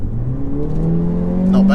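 A Mercedes CLA 45 AMG with 381 horsepower, in comfort mode, accelerates hard onto a motorway, heard from inside the cabin; the engine note climbs steadily in pitch and grows louder toward the end.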